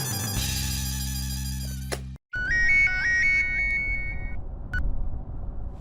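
A phone call ringing tone, first a sustained electronic ring that cuts off abruptly, then after a short gap a repeating stepped melodic ringtone pattern over background hum, with no one speaking.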